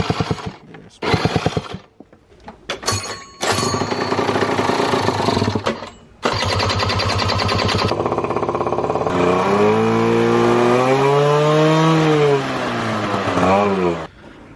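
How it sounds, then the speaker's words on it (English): A moped engine with a flooded carburetor runs poorly, loud and close, sputtering and revving unevenly with stops and restarts, then holding a wavering, surging idle that rises and falls in pitch. "Okay, so the bike, as you heard, was not running very well."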